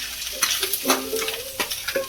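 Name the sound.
stirring onion, ginger-garlic paste and spices frying in pan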